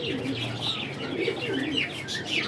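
Pigeons coo softly in a rooftop loft, low murmuring calls repeating steadily with faint chirps and a brief wing flutter, all fairly close and continuous.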